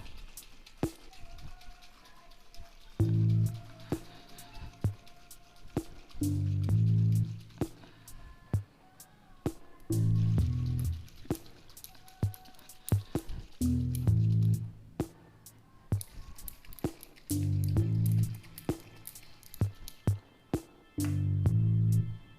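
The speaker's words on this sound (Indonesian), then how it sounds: "Setelah dikocok air kelapa campur madu, ini udah berbusa ya, nampak busanya ya." Coconut water mixed with honey sloshing inside a closed bottle as it is shaken, coming in several bursts of rhythmic liquid squishing between brief pauses, close and fairly loud.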